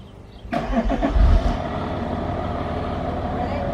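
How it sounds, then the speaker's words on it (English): An Audi A4 2.5 TDI diesel with a turbo over-boosting fault is started and revved, the engine catching sharply and rising in a short rev before settling to a steady rumbling idle close by. "Doing the revving. Yeah, just rev it up."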